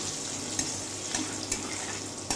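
Bitter gourd pieces frying in a pan give a steady, close sizzle, broken by a few sharp clicks from stirring.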